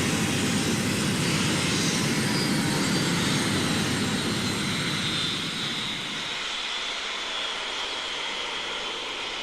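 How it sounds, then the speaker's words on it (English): The engines of an Airbus A330-900neo shut down in the GeoFS flight simulator game, starting as a loud steady jet roar. The roar drops sharply partway through and fades to a lower whine and hum, with no speech. "Engines off."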